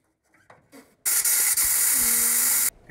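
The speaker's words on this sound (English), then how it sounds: "it's like an air sprayer to clean off stuff" A compressed-air sprayer blasts paint chips off a Toyota FJ-40 frame, a loud, close, steady hiss lasting under two seconds that cuts off abruptly, after some faint shuffling beforehand.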